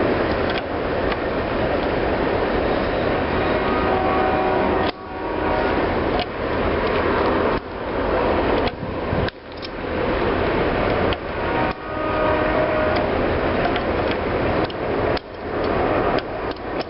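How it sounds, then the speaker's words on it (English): Heavy mechanical clanking and rumbling rolls on steadily with rhythmic metallic beats and brief dips, an eastbound coal freight train passing nearby. "There goes that eastbound coal train."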